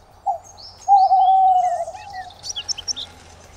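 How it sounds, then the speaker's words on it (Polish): A northern hawk owl gives a short note, then a long trilling call, followed by a few quick high chirps in a quiet setting at a zoo. "Inną sową z rodziny puszczykowatych jest sowa jarzębata."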